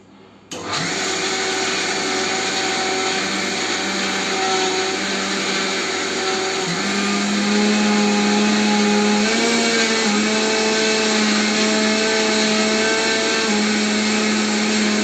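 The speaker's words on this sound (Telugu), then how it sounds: "మిక్సీ చేసేసుకోవాలి." A mixer grinder whirs steadily and loudly for the whole stretch, blending turmeric with kumkum stone powder, its motor pitch shifting slightly as the load churns, with no talking.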